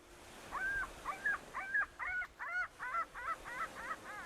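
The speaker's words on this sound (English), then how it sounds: "shooting the seagulls doesn't stop the seagull noise" Seagulls call in a pirate video game: a steady run of about ten loud, nasal, honking squawks in quick rhythmic succession over a low background rumble.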